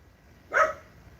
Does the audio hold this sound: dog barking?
yes